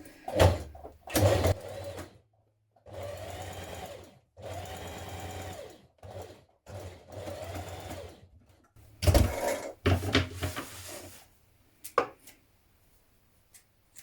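A domestic sewing machine stitches reinforcement on knit fabric for a McCall's 7975 top, running in several short bursts of rapid mechanical whirring separated by pauses, close and clear with no talking.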